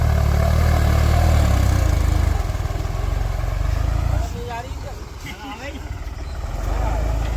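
A farm tractor engine works on a muddy field where another tractor is stuck. A heavy low rumble is loud at first, then eases to a lighter running drone with faint voices, and rises again near the end.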